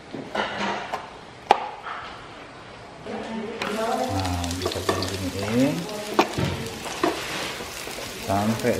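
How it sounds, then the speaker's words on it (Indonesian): Shallots frying in a pan while being stirred, a steady close sizzle with scraping and clinks from the utensil, under a person talking through most of it. "campurin bawang merah, aduk-aduk"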